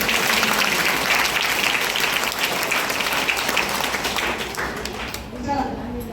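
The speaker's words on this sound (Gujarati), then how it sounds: "પેલા બેન માટે તાળી પાડો છો." A school graduation-day audience of children and adults applauds for a woman, a loud, dense burst of clapping that fades out near the end.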